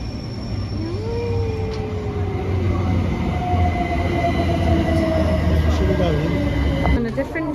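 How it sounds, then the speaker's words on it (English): A DLR train in London rolls along its rails with a steady interior rumble, long drawn-out wheel squeals rising and fading, and a few faint clicks, heard from on board. "On a different train now."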